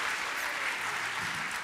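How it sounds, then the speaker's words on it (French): Steady audience applause at an agriculture awards event in Côte-d'Or, dense, even clapping from a crowd with no talk over it. "ça peut s'applaudir quand même"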